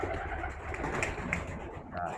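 Racing pigeon at a club competition calling: a few soft, low coos and short calls close by, with a voice murmuring underneath.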